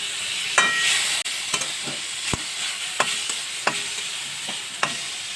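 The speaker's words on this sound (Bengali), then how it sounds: "চালতাটা দেওয়ার পরে আমি 1 মিনিট মতো একটু ভেজে নিচ্ছি।" Crushed elephant apple frying in a pan for a pickle, a steady broadband sizzle with sharp spoon-scrape clicks every second or so as it is stirred, close and continuous.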